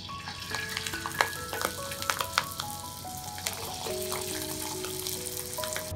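Watercress coated in a potato starch and water batter deep-frying in oil at 170 degrees, a steady close crackling sizzle with scattered sharp pops and bubbling throughout.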